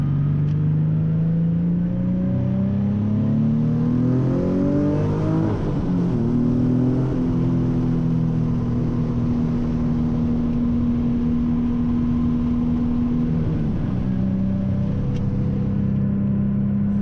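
Nissan 370Z Nismo engine heard from inside the cabin on a highway, a loud steady drone that rises in pitch as it accelerates through the gears, with a brief shift partway and a sustained roar at cruising speed.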